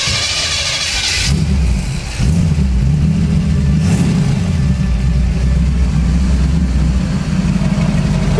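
A car engine idles and then revs as the vehicle pulls away on its first drive, a steady loud low rumble with rising and falling engine tone throughout.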